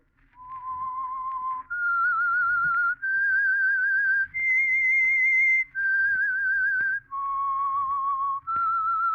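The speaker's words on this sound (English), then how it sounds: "That whistle is your signal for the Signal Oil program" A clear whistled tune, the Whistler radio program's signal theme, of several sustained, slightly wavering notes, each held about a second with short breaks, rising then falling, alone and close.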